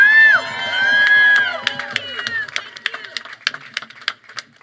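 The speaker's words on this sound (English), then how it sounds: "It's amazing to see this crowd going on so strong." A crowd at a protest vigil outside the Supreme Court cheers and shouts, loud and close, first as a sustained roar and then as scattered whoops and claps that thin out toward the end.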